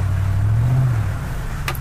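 A 1999 Ford F-150 pickup with a 5.4 engine and a gas leak rumbles loudly up close, its pitch rising briefly in a rev before settling back to a deep idle.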